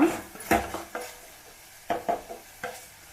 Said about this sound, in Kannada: ಇದನ್ನು ಚೆನ್ನಾಗಿ ಮಿಕ್ಸ್ ಮಾಡ್ಕೊಳ್ರಿ